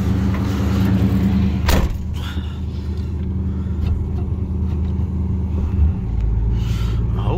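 A 1988 Chevrolet Monte Carlo SS T-top gives a steady low engine rumble as it drives, with a sharp thump near the start and a deeper surge late on; no one speaks.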